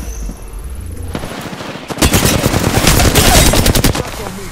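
Rapid automatic gunfire in the Apex Legends battle royale game, dense overlapping bursts that build from quieter ambience into loud sustained firing.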